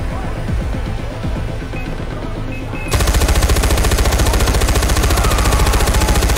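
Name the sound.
machine gun fire in the video game Far Cry 4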